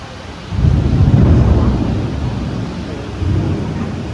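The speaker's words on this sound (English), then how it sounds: "It's thundering outside." A deep rumble of thunder rolls in, swells, and fades, returning softly toward the end, with no voices.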